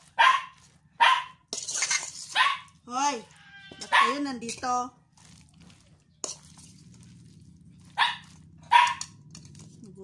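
Hungry dogs barking outdoors: several sharp, loud barks in quick bursts, some with a whiny, yelping tone, scattered over ten seconds, with a person calling out to them between barks.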